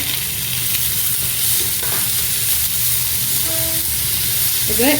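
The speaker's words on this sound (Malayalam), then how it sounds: "ഈ ടൊമാറ്റോ നന്നായിട്ട് സോഫ്റ്റ് ആകുന്നത് വരെ സോട്ടേ ചെയ്യുക." Three medium chopped tomatoes sautéing in a pan for paneer butter masala, a steady close sizzle and frying hiss with occasional stirring scrapes, continuous and fairly loud with no talking.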